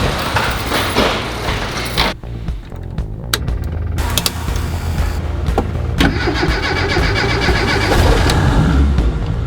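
A classic Mini on summer tires running across a frozen lake, its engine revving and droning steadily with bursts of throttle and faint scraping, close and fairly loud.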